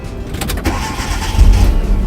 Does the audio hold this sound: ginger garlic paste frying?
no